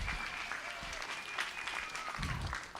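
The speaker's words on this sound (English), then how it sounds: "let's give all these kids a huge round of applause" A crowd claps continuously at a youth livestock show, a dense patter of applause that stays fairly even throughout.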